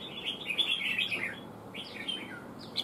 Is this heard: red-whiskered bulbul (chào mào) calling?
yes